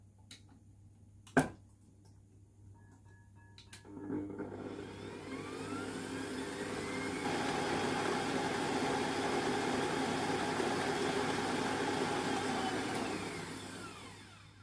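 A hand mixer on medium-high speed creams butter and sugar for a red velvet cake batter. A few clicks come first, then a loud, steady motor whir starts and runs to the end, its pitch shifting slightly.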